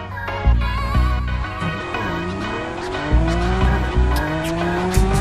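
Lamborghini Essenza SCV12 with a 12-cylinder engine racing in Real Racing 3, its loud engine revving and shifting through gears while tires squeal in short bursts, with no talk.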